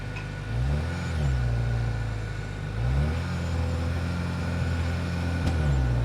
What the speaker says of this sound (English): let's fire up this 2-liter turbocharged 4-cylinder hybrid motor, see if we can rev it up, and hear how she sounds